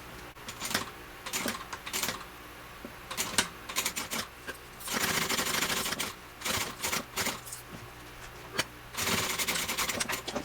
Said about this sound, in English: I'm going to start my sewing at that mark that I made